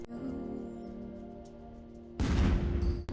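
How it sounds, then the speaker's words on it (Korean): A low, steady drone gives way to a sudden burst of loud, crackling firework explosions in an animated show that rumble on for about a second before cutting out. "폭격 소리가 들리고"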